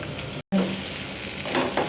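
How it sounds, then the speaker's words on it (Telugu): Peanuts frying in a pan for sabudana khichdi, a steady close sizzle with faint stirring scrapes and a brief dropout, no talking. "పల్లీలు వేసేసుకొని ఒక్క వేపు వేయించేసి ఉప్పు చూసుకుందాం"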